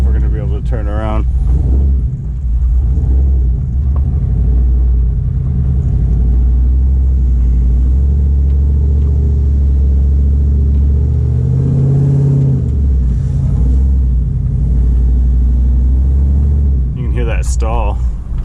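A cammed Chevrolet Silverado 5.3 LS V8, running without a tune and held alive on the throttle, gives a loud, close, steady low rumble that lopes unevenly throughout, with voices talking over it.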